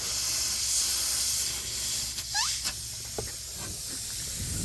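Air hisses steadily out of a cracked, leaking plastic blower, a close, continuous airy rush with a few brief squeaks and clicks over it.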